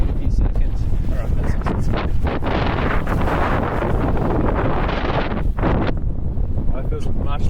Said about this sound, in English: Look at that gust.